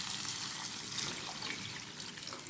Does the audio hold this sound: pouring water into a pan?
yes